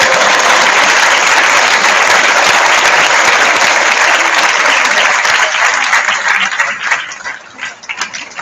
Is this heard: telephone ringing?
no